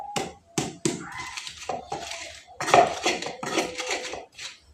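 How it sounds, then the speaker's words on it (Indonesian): Spice paste for water spinach is pounded and ground in a mortar, giving a close series of uneven knocks, thuds and gritty scrapes at an irregular rhythm. "Genjer ki jare bumbune kudune diulek ben meresep enak"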